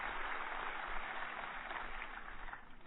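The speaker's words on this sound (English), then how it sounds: "Please give them a round of applause." An audience at the National Ignition Facility dedication ceremony gives a round of applause: a steady, even wash of many hands clapping together, moderately faint and sustained throughout before easing slightly at the end.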